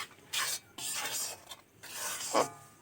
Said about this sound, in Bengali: দেখো এইভাবে নেড়ে চেড়ে ছাতুটা ভাজতে হবে